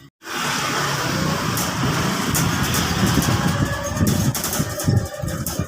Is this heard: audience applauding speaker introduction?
no